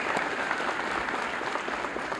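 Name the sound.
round of applause for award winners at a school assembly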